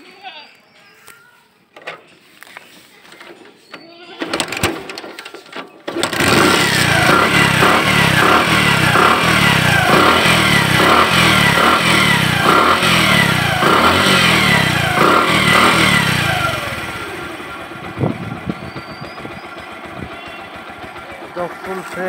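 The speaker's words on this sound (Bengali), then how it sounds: "যারা ভালো মানের বাইক খুঁজতেছেন এবার দেখাবো সাউন্ড।" A Bajaj Platina 100cc motorcycle engine starts after a few seconds and runs loud and close with a steady pulsing idle and rising revs, then settles lower toward the end. There are quieter knocks and shuffling before the engine starts.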